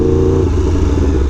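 A Yamaha R1M sport motorcycle runs steadily at close range, its dense engine drone loud and continuous throughout with no talk over it.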